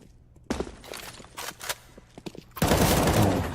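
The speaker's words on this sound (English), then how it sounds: "few deagles, a P250 in the hands of Rush" Pistol shots from Counter-Strike: Global Offensive, Deagle and P250 in a competitive match, crack out as several quick separate shots with footsteps between, ending in a louder sustained burst.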